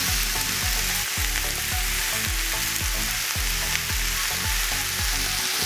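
Okra bhaji frying in a pan just after brown sugar goes in, a loud, continuous sizzle heard up close with a regular, rhythmic scraping pattern of stirring running underneath throughout.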